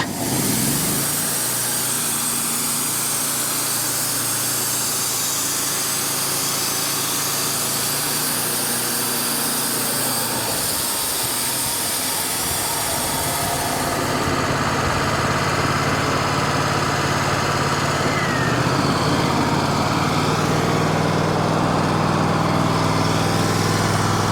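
A WoodMizer portable sawmill runs steadily, its engine droning loud and close as the saw head lowers to the next board, with a shift in tone partway through; no one speaks.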